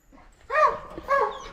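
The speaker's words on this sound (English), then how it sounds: "I'm trying to talk over the dog doing its thing." A deer hunting dog whines in two drawn-out, high nasal cries close by, separated by a short pause, with no talk over it.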